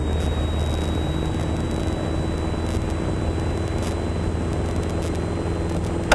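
Steady drone of a light airplane engine at 2,400 RPM in level cruise at 2,500 feet, a continuous loud broadband roar with a low hum holding constant throughout, with no talking.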